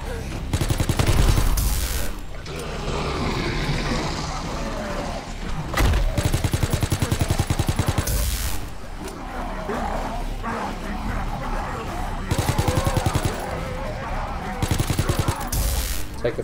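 Gunfire in the COD WW2 Zombies video game, rapid bursts of automatic shots rattling in several loud clusters amid dense game noise, with brief pauses and some barking or yelping mixed in.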